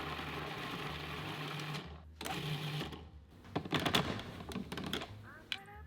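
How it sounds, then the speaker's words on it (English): Food processor whirring as it grinds garlic in short motorized bursts with brief pauses between, fairly close and steady, with a few clattering knocks near the end. "In a food processor, add the garlic. And grind it."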